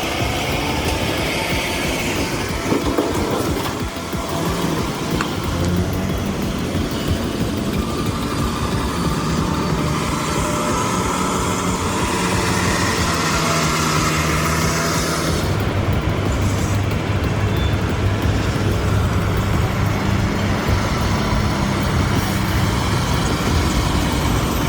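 A 2020 Kenworth W990 hauls a 125,000-pound milling machine on a seven-axle XL trailer through Buckingham. Its loud, steady engine drone rumbles throughout without any talk.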